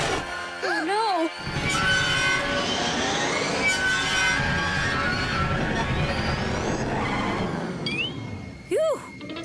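Cartoon train rolling on tracks, a continuous rumbling clatter with squealing wheel tones and rising whistling sweeps, framed by short excited cartoon voices at the start and end.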